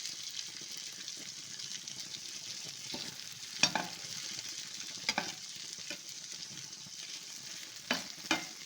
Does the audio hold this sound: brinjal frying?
yes